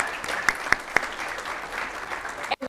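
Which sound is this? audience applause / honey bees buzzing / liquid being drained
audience applause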